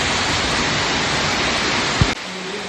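Continuous broadband roar of the San Giovanni waterfalls on the Maiella mountain in Abruzzo, heard from a spot behind the falls; the dense, even wash of water stays loud and close, with a brief thump near the end before it drops slightly.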